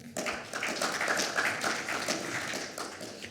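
A crowd at a participatory governance event claps for a speaker leaving the stage, a fairly soft, even wash of many hands that carries on throughout at moderate distance.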